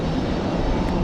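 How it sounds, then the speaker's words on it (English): An American Airlines Boeing 737-800 arriving from DFW at Raleigh-Durham airport produces a loud, steady jet roar close by with no voices. "Get our next arrival, American Airlines 2660 from DFW coming up next."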